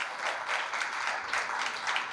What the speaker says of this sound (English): Yes, we can clap.